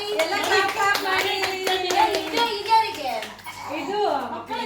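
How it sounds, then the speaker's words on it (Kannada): A group of people at a small children's party game clap together for a prize winner, a fairly close burst of mixed claps with children's voices and talk over them. "ಇಬ್ರು ಶ್ರೀಮತಿ ಅವರಿಗೆ ಚಪ್ಪಾಳೆ ಹೊಡಿರಿ."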